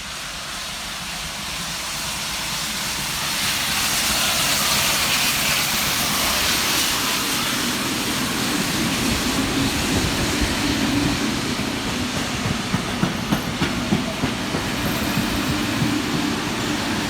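Steam locomotive 3801 hauls a train, assisted by locomotive 4201, in cold, wet winter rain in New South Wales. A broad, loud, steady roar with hiss swells after a few seconds and holds.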